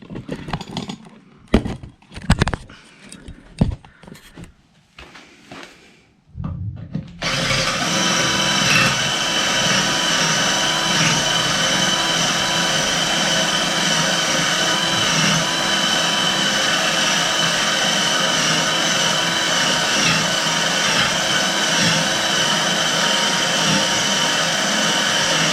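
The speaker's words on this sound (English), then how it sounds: "So the drill bit I'm using is just a hair bigger than the bolt itself." A steady, loud power-tool whine of a drill boring through a bolt head on a Kawasaki W1 motorcycle runs continuously after a few seconds of quieter clattering and handling noises.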